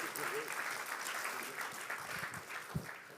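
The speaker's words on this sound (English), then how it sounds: "will you guys give these friends a round of applause real quick?" An audience at a mental health panel gives a round of applause for the guests, a steady patter of clapping throughout with a voice speaking over it.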